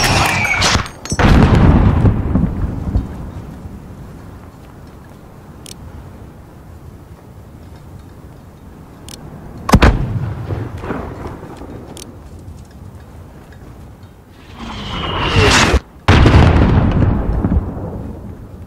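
Mortar fire and explosions in the Call of Duty: Modern Warfare campaign: loud booming blasts at the start, middle and end, each rolling off into rumble, with quieter stretches between them.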